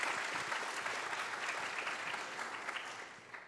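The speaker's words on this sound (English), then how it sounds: "give her a round of applause anyway" A church congregation claps during a contemporary service, broad steady applause from a roomful of people that holds evenly and then tapers off slightly toward the end, with no speaking heard over it.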